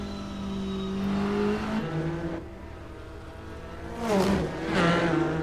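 A GT4 race car engine in a racing video game, revving and shifting through gears with rising and falling whine, loud and close, then a second car's engine swelling past near the end.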